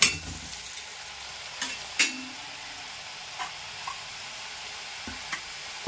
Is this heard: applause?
no